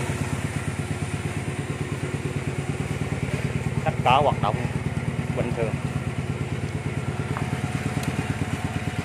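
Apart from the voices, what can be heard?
Rebel 150 motorcycle engine idling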